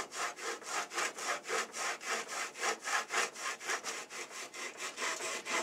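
A Japanese saw cutting through wood, up close with fast, even push-pull strokes repeating without pause and no talking.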